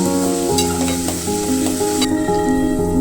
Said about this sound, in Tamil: வெங்காயம் சேர்த்து நல்லா பொன்னிறமாக வர வரைக்கும் வதக்கணும்